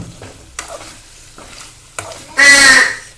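Chicken frying in a pan gives a loud burst of sizzling, while a few soft taps and clinks come before it.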